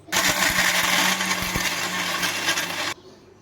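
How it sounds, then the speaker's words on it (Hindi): A loud mixer grinder grinds fried cashews for about three seconds with a coarse, rattling roar, then cuts off abruptly. "अब हम इनको मिक्सी में डालकर पीस लेंगे।"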